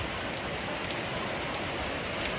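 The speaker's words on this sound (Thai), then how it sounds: "ฝนดีมากเลยนะมันเข้าสู่ฤดูการฝนเลยครับ" Heavy seasonal rain pours down steadily at a home in Thailand, a dense, constant hiss of drops hitting surfaces close by, with no voices.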